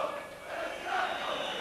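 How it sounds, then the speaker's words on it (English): A large football crowd at Dens Park for a 1991/92 Dundee versus Falkirk match roars and chants in a sustained, dense wash of voices, steady and fairly distant. "Dundee start the match in front of a very enthusiastic Dens Park crowd"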